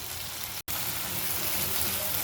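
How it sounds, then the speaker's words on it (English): Onions frying in a pan for a paneer butter masala, giving a steady, close sizzle that runs throughout, broken only by a brief cut near the start. "Now we are going to fry it for another 2 to 3 minutes until the raw smell"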